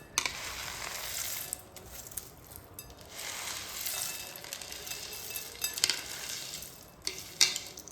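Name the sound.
fried chanachur snack mix tossed into a bowl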